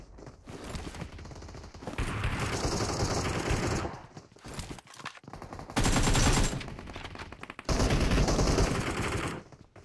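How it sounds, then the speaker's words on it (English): Gunfire in a video game, with a shotgun among the shots: loud close bursts of firing in several clusters, separated by brief quiet gaps, with no one talking. "Bro, that was a shotgun"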